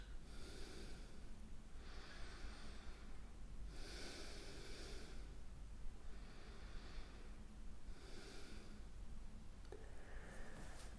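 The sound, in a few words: deep breathing during yoga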